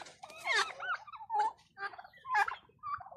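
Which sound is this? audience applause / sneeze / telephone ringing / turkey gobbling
turkey gobbling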